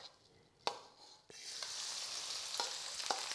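Onion, garlic and lemongrass drop into oil in a wok on low heat, a couple of sharp knocks giving way to a steady, bright sizzle with small clinks of stirring.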